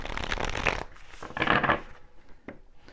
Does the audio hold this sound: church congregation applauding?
no